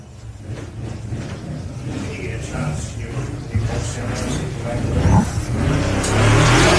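Race cars on a circuit during the opening laps of the Loveday 400, engines droning and revving steadily and growing louder toward the end, with a commentator talking over them.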